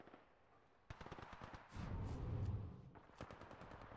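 Rapid SMG bursts in Titanfall, a quiet lull then dense overlapping automatic fire with heavy low-end impacts in the middle, loud and close, with no talking.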